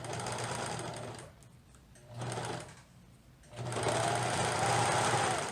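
A serger sewing machine stitches a knit fabric hem in bursts: a close, fast mechanical whir runs, stops briefly twice, then resumes in a longer steady run.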